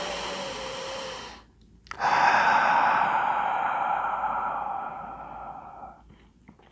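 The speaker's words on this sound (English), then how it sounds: "we take a few deep breaths through the nose and out through your mouth" A person takes a deep breath in through the nose and then exhales long and steadily out through the mouth, close and clear, with a brief pause between the two breaths and no talking.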